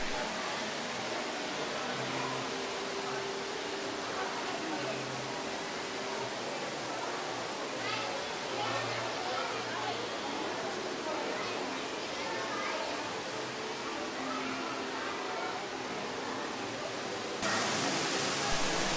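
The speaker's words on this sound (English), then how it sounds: "R.I.P. to the waterfall at Polynesian." The indoor waterfall in the lounge at Disney's Polynesian resort gives a constant, even rush of falling water filling the space, with faint voices and children's chatter underneath.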